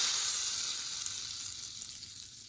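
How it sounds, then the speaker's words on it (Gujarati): Hot tempering of chili and cumin seeds poured into yogurt hisses in a bright, close sizzle that starts strong and slowly fades over a couple of seconds, with no voices. "ગેસ બંધ કરી અને આ વઘારને આપણે દહીંમાં મૂકી દઈશું"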